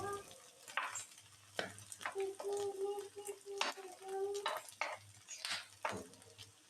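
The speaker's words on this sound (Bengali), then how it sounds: "অল্প কিছু মাংস দিয়ে মশলার সাথে ভালোভাবে ভেজে নেব" Cooked meat fried with spices in a pan for Sylheti kala bhuna, a soft sizzle punctuated by irregular metallic scrapes and clanks of a spoon against the pot, with faint background voices.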